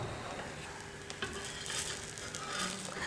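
Cut pieces of leftover chapati toast on a tawa, a quiet, steady sizzle with light scraping and a few soft taps as they are moved around.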